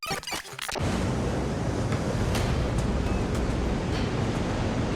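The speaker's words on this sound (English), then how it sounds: "a rogue wave crashes on the ramp, knocking a girl between the railings" Ocean waves surge and crash over a pier's slipway ramp, a dense, continuous roar of churning surf and spray that swells loud after a brief opening burst and keeps rushing unbroken.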